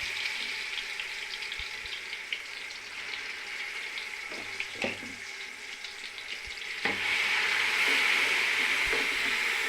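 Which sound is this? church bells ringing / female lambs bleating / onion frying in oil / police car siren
onion frying in oil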